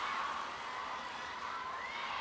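Spectators in the hall at the 2024 ITTF World Cup in Macao react after a table tennis rally between Sun Yingsha and Chen Xingtong, with steady, fairly faint crowd noise and cheering carrying through the whole moment.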